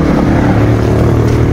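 A 2013 Ford Ranger 2.2 diesel with a manual gearbox and a hard-start problem on cold mornings runs with a loud, steady, close rumble and low knocking pulses, alone without voices.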